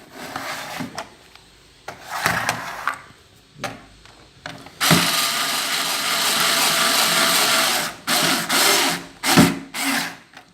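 Screws are driven tight on a 20-LED rechargeable light with a handheld driver, giving short rubbing, grinding bursts followed by one longer steady whir and a few brief closing bursts, close up with no talking.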